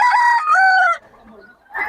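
Roosters crow loudly and close by at a busy chicken market in Bocaue, two drawn-out crows followed by a brief quiet stretch and another starting call.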